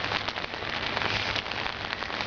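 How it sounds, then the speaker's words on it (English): Steady rain patters on surfaces during a morning walk, a dense, even hiss of drops close by with no voices over it. "Rain."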